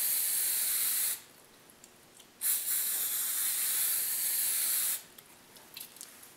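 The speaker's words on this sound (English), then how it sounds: "Now we'll take our hairspray and just give that a good little soaking." Hairspray is sprayed from an aerosol can onto a model grass mat as a forest floor, giving close, loud hissing bursts: one long spray, a pause, another long spray, then short faint puffs.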